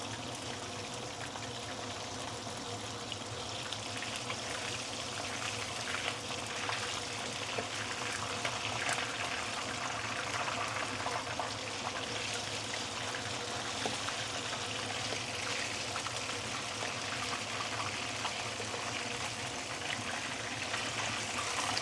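Half of a large barramundi head, near 5 kg, frying in a pan, giving a steady, even sizzle of hot oil that hisses and crackles continuously at close range without pause.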